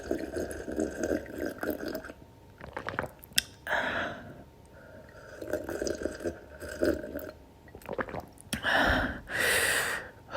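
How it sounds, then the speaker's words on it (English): Close-up sips of water from a cup or bottle, wet slurps and swallows followed by sharp breathy gasps and exhales, repeated a few times with a breathy voice between them. "some of y'all let me know y'all like it when I sip on this water"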